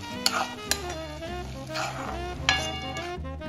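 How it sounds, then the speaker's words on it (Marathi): Puree from three tomatoes sautés in oil with fried onions, a gentle sizzle under a spoon that stirs and scrapes the pan, with a few clinks against the metal and steady background tones. "आपण आता 3 टोमॅटोची प्युरी आपण आपल्या कांद्यामध्ये घालून तेल सुटेपर्यंत आपल्याला ही प्युरी भाजून घ्यायची"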